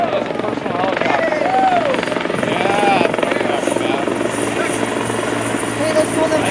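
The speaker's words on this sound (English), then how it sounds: "That's a personal helicopter." A personal helicopter landing at a camp, its steady rotor and engine noise filling the scene loudly and continuously, with a few brief whistling tones over it and people talking nearby.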